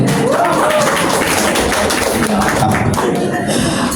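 An audience claps at the launch of a singer's first solo album: a dense, steady wash of applause fills the whole stretch, with a voice speaking over it.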